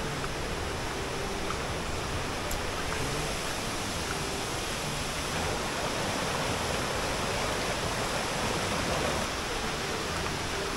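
Steady, continuous rush of water flowing from a pipe, loud and unchanging throughout, with no voices.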